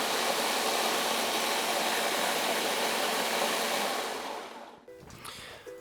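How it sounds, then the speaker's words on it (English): A hair dryer blows steadily to warm cocoa beans in a melanger, a loud continuous whooshing hum close by that fades and cuts off near the end, followed by quieter handling noises. "use a hairdryer to warm them up"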